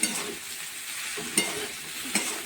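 Jackfruit and moong dal being stirred in a frying pan over a soft, steady sizzle, with a few sharp spoon scrapes against the pan at intervals; close and fairly quiet, no talking.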